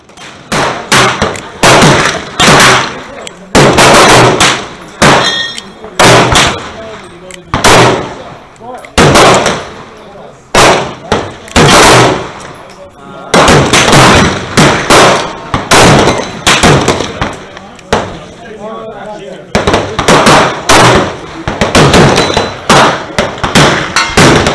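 Glock 17 and Glock 26 pistols firing at a shooting range, loud sharp shots in rapid strings with short pauses between volleys.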